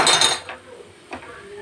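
Dry semolina (rava) tipped into a pot of boiling water for upma and stirred, with a bright metallic clatter of utensil against pot at the start and another brief scrape partway through, then quiet simmering.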